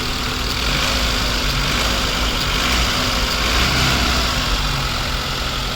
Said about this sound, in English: The engine is completely started. You can just check out the sound of the engine.